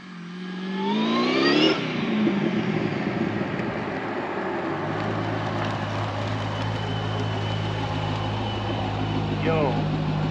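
A Pontiac GTO fitted with a Monster Clutch pulls away under its own power. The engine revs up loudly near the start, then settles into a steady droning run with road noise, and a brief rise in revs comes near the end.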